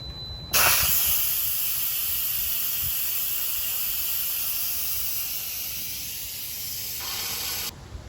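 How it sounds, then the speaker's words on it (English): A loud, steady rush of venting steam from an Instant Pot's quick pressure release after cooking frozen stir-fry vegetables, starting abruptly and hissing continuously for about seven seconds before cutting off. "so let's quick release the steam"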